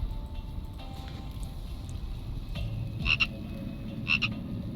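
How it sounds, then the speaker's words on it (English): In the Mind Echoes video game, a frog croaks twice in short high chirps about a second apart over steady ambient rain-like noise, with no talking. "A little frog."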